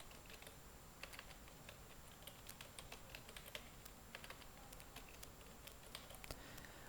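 Typing on a computer keyboard while entering a client name into a WordPress online shop setup, a steady stream of light clicking keystrokes throughout, close and fairly quiet, with no talking.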